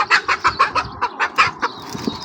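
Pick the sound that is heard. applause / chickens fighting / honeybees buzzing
chickens fighting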